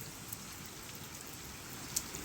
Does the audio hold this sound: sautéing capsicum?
no